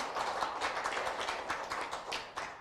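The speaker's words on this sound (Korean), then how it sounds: "다시 한번 큰 박수 부탁드립니다." A crowd at a nurses' association general assembly claps together in a dense, continuous burst of applause, steady throughout with no voices over it.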